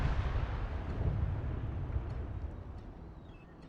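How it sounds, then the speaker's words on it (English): In a WW1 video game, an artillery cannon shot's blast rolls out as a deep, rumbling boom that slowly fades away, fairly faint and distant. "There's one more cannon shot. Ooh, you heard the whistle of that one."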